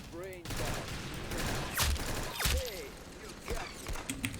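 Pistol gunfire in the Roblox game Arsenal, scattered separate shots spaced apart in a busy game mix with mechanical clicks and a voice talking over it.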